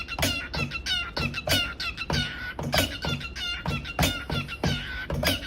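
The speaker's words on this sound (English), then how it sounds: "Oh, that bird's got flow, bro." A chicken clucks in a rapid, rhythmic run of loud, close calls that repeat almost like a beat, with scratchy bursts between them.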